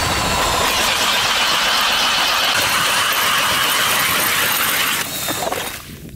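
A gas ice auger with a clam attachment bores holes through early-season ice on a crappie lake, giving a loud, steady, high-pitched engine whine with grinding that holds for about five seconds, then quickly tapers off.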